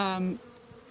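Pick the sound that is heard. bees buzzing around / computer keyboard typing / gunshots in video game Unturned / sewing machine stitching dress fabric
bees buzzing around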